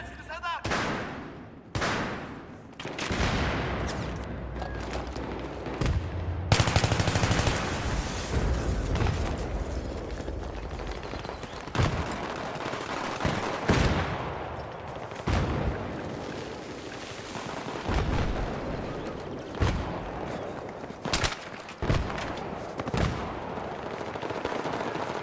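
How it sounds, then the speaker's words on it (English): Battlefield 3 gunfire rattles in dense bursts and single cracks, mixed with heavy blasts and a constant battle din that carries loud and near throughout. "they're shooting up from up there"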